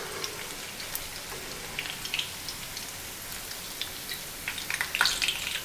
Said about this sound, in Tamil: இதே மாதிரி மீடியம் ஃப்ளேமில் வச்சு ஒவ்வொன்றா பொரிச்சு எடுத்துக்கலாங்க